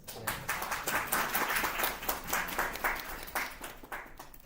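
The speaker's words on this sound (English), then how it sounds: "can we have a round of applause for candidates?" Audience applause for election candidates at a student national assembly in Estonia, a steady, fairly distant patter of many hands clapping for several seconds with no talk.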